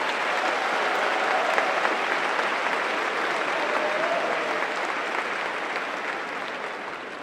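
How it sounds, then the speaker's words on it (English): A commencement crowd at Keystone College applauds the color guard, symphonic band and bagpiper, a broad, even wash of many hands clapping that holds steady and fades slightly at the end. "Please join me in a round of applause for the Color Guard, the Keystone College Symphonic Band and Bagpiper"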